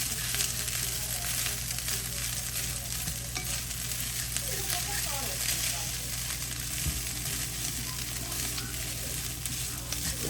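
Sausage frying in butter in a hot skillet gives a steady, loud sizzle that runs unbroken throughout, with faint scraping of stirring now and then.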